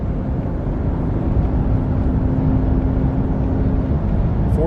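A Chevy Silverado 2500 4x4 truck engine pulls in third gear, a loud, steady drone with road and wind noise and a faint rising whine.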